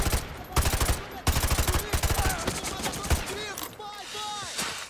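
Rapid automatic gunfire in Modern Warfare 2 Remastered, loud dense bursts of shots up close, with a voice briefly heard amid the shooting.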